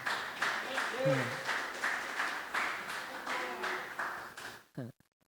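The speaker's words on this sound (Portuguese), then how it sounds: "Aplaude o Senhor pela vida do Adriano, irmãos." A church congregation claps in a steady rhythmic beat during a worship service, roughly two claps per second, with voices talking and calling out over it before it stops abruptly.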